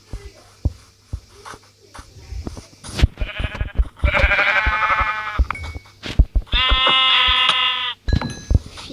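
Sheep bleat repeatedly in a blocky survival video game, two long bleats standing out clearly amid game clicks, thuds and footsteps, fairly close and loud with no talk over them.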